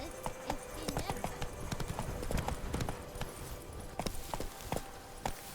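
Hooves of Roach, Geralt's horse in The Witcher 3, clip-clop at a steady walking rhythm on hard ground, fairly close, with a voice talking over parts of it.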